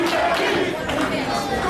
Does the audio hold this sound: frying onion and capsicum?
no